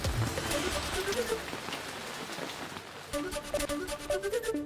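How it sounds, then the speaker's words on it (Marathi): Steady heavy rain in Nahan, Himachal Pradesh, hisses across the whole clip, with dense patter on surfaces and some faint tonal background sounds mixed in. "हिमाचलच्या नाहनमध्ये 2 दिवसांपासून मुसळधार पाऊस."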